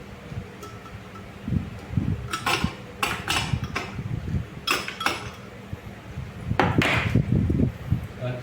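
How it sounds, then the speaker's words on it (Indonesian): Ice cubes drop into an Advance BL-11 glass blender jar, making a series of hard, bright clinks and clatters in irregular bursts, close and fairly loud, with a denser rattle of cubes near the end. "Sudah kencang, dan lalu masukkan es batunya"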